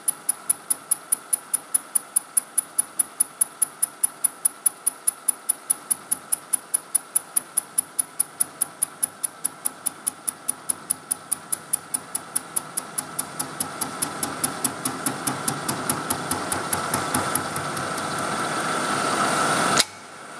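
A single-point boring tool cuts cast iron on a machine, giving a fast, regular ticking rhythm over a high whine that grows denser and louder near the end before stopping abruptly, with no talk.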